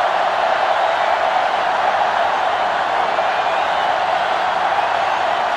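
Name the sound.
crowd noise in the video game NCAA Football 2005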